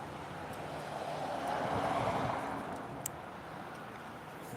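Steady wind rushing over water during a day of fishing, a broad, continuous roar that swells in the middle and eases off, with a faint click near the end and no talking.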